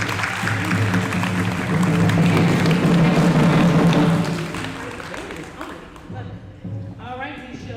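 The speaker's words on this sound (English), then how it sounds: "Give yourselves a round of applause." Dense applause from a crowd at a middle school end-of-year awards ceremony for a few seconds, then tapering off into quieter room noise.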